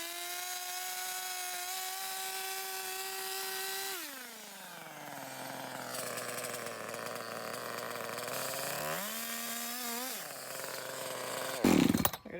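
A chainsaw with a dull chain drones loudly and continuously while cutting through a log for a side table, its engine pitch sagging under load and rising again, ending with a brief loud burst.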